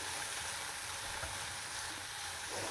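Vegetables sizzle in a frying pan while being stirred for an egg frittata, a faint, steady hiss with soft low stirring sounds, brief and without talk.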